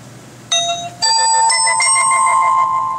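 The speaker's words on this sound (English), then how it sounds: "I'll just play a ring so you can hear it." A Motorola Photon 4G phone plays its ringtone, a bright ringing bell-like tone that starts, pauses briefly and then rings loud and sustained from close by.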